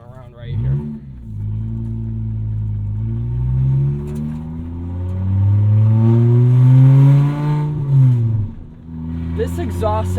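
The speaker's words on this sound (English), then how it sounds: "This exhaust sound right now it sounds horrible" A $500 beater car's rough, droning exhaust rumbles continuously while driving, swelling louder mid-way as it accelerates, with a voice talking over it.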